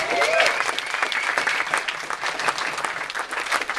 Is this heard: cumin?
no